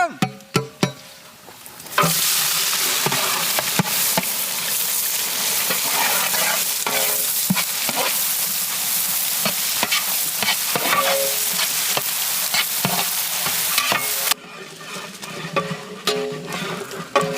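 Onions sizzle loudly in hot oil for a village-style quail biryani cooked for a wedding, stirred continuously with scraping sounds, close and steady for most of the stretch before easing off near the end.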